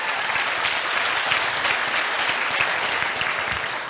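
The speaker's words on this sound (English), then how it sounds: "Please give them a round of applause." Steady, dense applause from a large audience at a campus political event in a university hall, hands clapping continuously and evenly for the whole stretch without a break.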